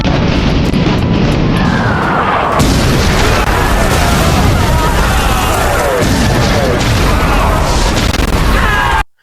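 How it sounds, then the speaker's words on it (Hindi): Dense, loud booms and crashes of gunpowder cannon fire at the First Battle of Panipat pile up in a chaotic battle din, with voices mixed into the noise. "उसके गनर्स ने, उसकी तोपों ने पीछे से वार करना शुरू किया।"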